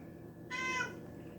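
A pet cat lets out one clear, close meow that rises and falls over about half a second indoors, standing alone against a quiet room hum.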